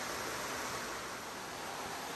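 Flowing creek water beside a wooden track in the White Mountains, a steady broadband wash that stays constant and fairly quiet throughout.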